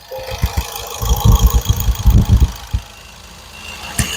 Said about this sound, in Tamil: இன்ஜின் சவுண்டு பாருங்க